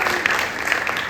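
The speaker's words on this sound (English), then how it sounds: "I want you to give them a round of applause again" Brief, lively applause from a theatre audience for student actors after a stage play at a university, many hands clapping close and steady.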